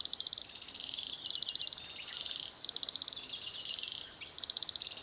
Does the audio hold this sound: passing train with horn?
no